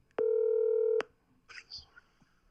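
A single steady telephone dialing tone of a phone call sounds loud and clear for under a second, followed by faint breathy voices.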